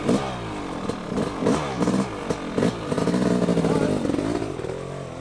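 A brand new Yamaha YZ500 two-stroke dirt bike engine runs up close, revving and crackling in uneven bursts, with people talking over it.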